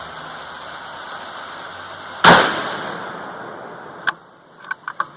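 A single sharp report from a 450 Bushmaster rifle firing a 200gr FTX handload cracks out mid-clip, trailing off into a short decay, followed by a few faint clicks and knocks.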